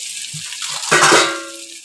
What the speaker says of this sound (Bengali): এদিকে মাছের আলুটা একটু ভেজে নিচ্ছি মশলা দিয়ে